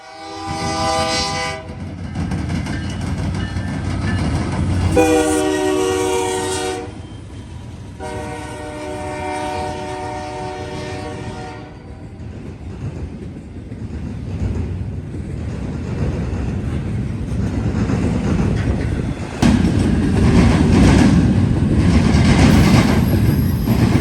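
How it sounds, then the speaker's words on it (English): A southbound intermodal freight train passes in northern Ohio, its horn sounding in three long blasts over a loud, rumbling roll of wagons, with wheel squeal and rhythmic clatter continuing after the horn stops. "another southbound intermodal came in"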